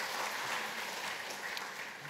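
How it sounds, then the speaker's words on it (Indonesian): A church congregation at an Easter Sunday service applauds the Immanuel choir, a steady, fairly faint wash of clapping heard from a distance, with no speech over it. "Mari kita berikan aplaus kepada mereka."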